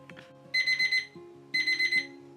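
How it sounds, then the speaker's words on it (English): A kitchen timer alarm goes off in two bursts of rapid high electronic beeps, each a quick run of four or five tones, loud and close over a faint background hum. "The timer's going off."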